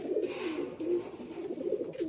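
Rajshahi giribaz pigeons coo softly and continuously, a close, low murmuring throb with no talking.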